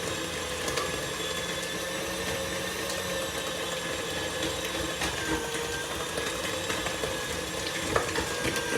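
A stand mixer runs steadily, kneading brioche dough as butter is worked in, a continuous even whir with a faint wet slapping texture and no talk.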